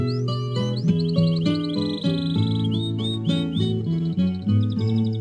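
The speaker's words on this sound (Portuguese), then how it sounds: "os passarinhos cantando, começando um barulhão" Small birds chirp and trill in quick repeated high phrases, layered over a steady acoustic Brazilian country song from 1979 with viola and bass, and no voices.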